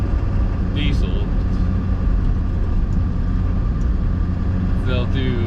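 A Ford 7.3 Powerstroke diesel truck engine runs steadily at idle, a dense low rumble heard from a camera sitting outside the truck, unbroken for the whole stretch with a couple of faint chirps above it.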